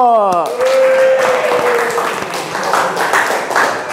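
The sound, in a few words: applause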